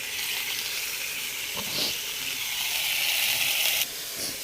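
Cumin seeds sizzle in hot oil alongside fried cauliflower and potato, giving a steady, loud hiss with a brief surge in crackle midway and a sudden drop near the end.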